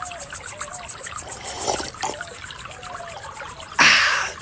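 A character in the Rosewater video game sips water, heard as a run of soft, rhythmic liquid trickles and gulps up close, ending in a brief louder splash-like burst.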